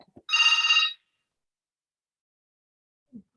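A telephone bell rings in one short, loud burst near the start, then falls silent, with only faint scattered sounds around it.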